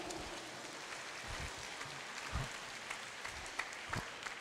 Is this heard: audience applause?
yes